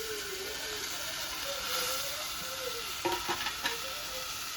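Spices for a kadhi tempering sizzling in hot oil: a soft, steady frying hiss throughout, with a few quick scraping stirs and clinks in the second half and faint background sounds.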